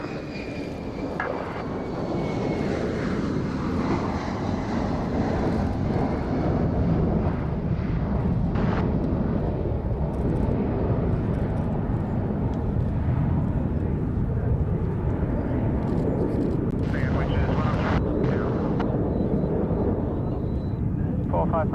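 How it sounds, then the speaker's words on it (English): A Nimrod aircraft makes a flyby with a deep, broad engine roar that lasts throughout, with voices talking over it. "Blue Eagles, the Nimrod is completing this flyby and then departing."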